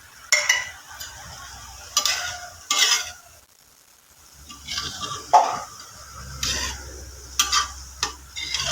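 Grated coconut is stirred into moong dal usli in a pan. A spatula makes repeated scraping strokes in uneven bursts over a soft sizzle, close up, with no speech.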